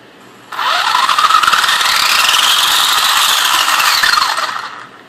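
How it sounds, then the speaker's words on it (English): A sensorless brushless motor in a Traxxas Stampede RC truck whines up to a loud, high-pitched scream, sweeping up in pitch and then back down over about four seconds, heard close and alone. "Now the good thing about a sensorless brushless motor like this is it's very, very fast."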